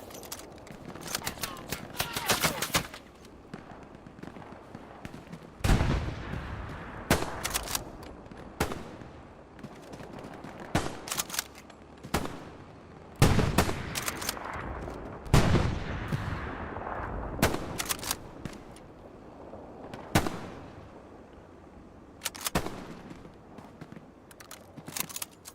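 MG42 machine gun fire in the WWII shooter game Hell Let Loose: repeated loud bursts and sharp cracks at irregular intervals, with some longer sustained volleys mixed among other battlefield gunfire.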